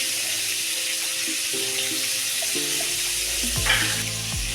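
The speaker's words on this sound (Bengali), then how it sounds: "চিংড়ি মাছটা নুন হলুদ দিয়ে ভাজছো" Prawns fry in a pan with salt and turmeric, a dense constant sizzle with occasional ringing metallic clinks and a short scrape near the end, no voices.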